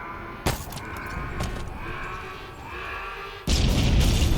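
A gun generator explodes in the video game Halo Infinite: a sharp burst at the start, then a rumbling crackle of debris, and a second heavy, loud blast near the end.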